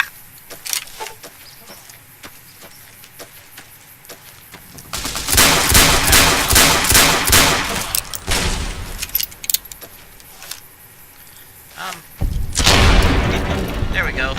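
Incendiary weapon fire in Fallout New Vegas comes in two loud bursts of rapid, crackling shots, with quieter clatter between them.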